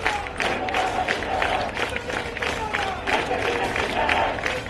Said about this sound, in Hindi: ताली बजाकर नारेबाजी हो रही है।